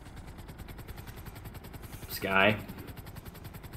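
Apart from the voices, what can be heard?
helicopter flying in video game GTA 5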